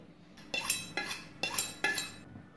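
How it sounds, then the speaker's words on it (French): A knife cuts through an onion on a board, four crisp crunching strokes at an even rhythm, close and fairly quiet, with no talk. "on prend l'oignon et on va le couper en 2"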